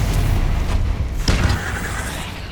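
A Confringo explosive spell goes off in Hogwarts Legacy as a loud, booming blast with a sharp burst about halfway through, then a rumbling tail that fades out.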